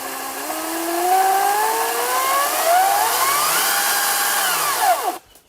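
A Makita chainsaw with a variable speed trigger runs loud and steady alone, its whining pitch climbing and dipping as the trigger is feathered, then cutting off abruptly near the end.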